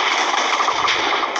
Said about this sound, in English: Whoa. That is a lot of explosions.